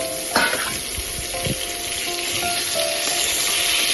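Pieces of pointed gourd (potol) are being fried in a pan, giving a steady broadband sizzle. Near the start there are a couple of brief knocks or scrapes, and there is no voice.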